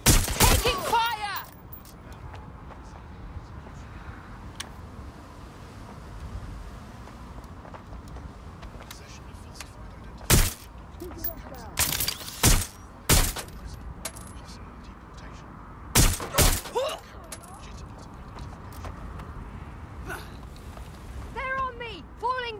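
Gunfire in the video game Watch Dogs Legion: a few loud, sharp bursts around the middle and later, separated by quieter game ambience with occasional voices calling out.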